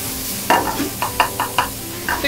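Ground meat stir-fried in a pan over high heat for chilled sesame tantan udon, a rapid series of sharp scraping and sizzling bursts as it is tossed, with steady hissing between strokes and no talk.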